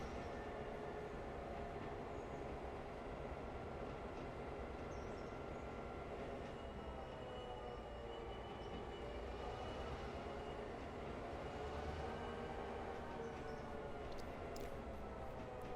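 Diesel passenger train running in Railroader, a steady continuous rumble with layered engine drone and rail noise, unbroken and fairly loud throughout with no talking.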